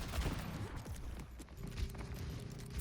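Video game gunfire crackles in quick bursts of shots, a fusillade of close pops and thumps over a low background rumble, with no one talking.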